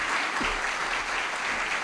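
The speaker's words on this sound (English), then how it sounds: "please give him a warm round of applause." Loud, continuous applause from an audience welcoming a speaker to a talk on senior communities, a thick steady wash of clapping throughout with no voices.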